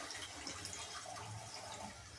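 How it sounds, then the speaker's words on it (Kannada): Water poured into chicken keema in a home kitchen, a steady quiet trickle and splash running throughout without speech. "ನಿಮಗೆ ನೀರು ಎಷ್ಟು ಬೇಕೋ ಅಷ್ಟು ನೀರು ಹಾಕಬೇಕು."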